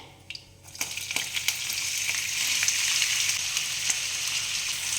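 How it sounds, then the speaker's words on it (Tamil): Sliced onion with cardamom and cinnamon sticks sautéing in hot oil for a green peas potato curry, a steady close sizzle that swells after a brief quiet start, with light stirring clicks and no talk. "இது எல்லாம் சேர்த்து நல்லா வதக்குங்க"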